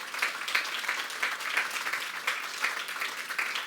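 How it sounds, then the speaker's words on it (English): An audience claps for donors at a gathering in Calgary. The applause is steady and moderately loud, with repeated sharp peaks of clapping throughout and no speech on top. "Let's give them applause."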